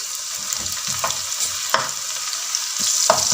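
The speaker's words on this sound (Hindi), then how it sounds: "लहसुन का पेस्ट डालेंगे।" Garlic paste sizzles and fries with lightly browned onions in a pan, a steady close hiss broken by a few sharp spatters and stirring scrapes, with no talking.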